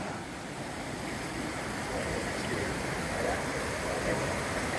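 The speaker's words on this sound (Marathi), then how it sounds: "परत एकदा नदी लागली." Steady broadband rush of river water near Sendang Gile waterfall on Lombok, Indonesia, a continuous close roar with no pauses and no voices.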